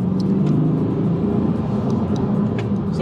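A 2020 Chevrolet C8 Corvette, still held to a low rev limit during its break-in period, gives a steady, loud, close engine rumble with the revs kept varied, heard alone without any talking.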